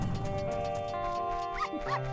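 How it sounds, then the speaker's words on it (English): Epona the horse whinnies in Majora's Mask over looping game music, with soft hoof clip-clops and short rising neigh calls toward the end. "That is me horse!"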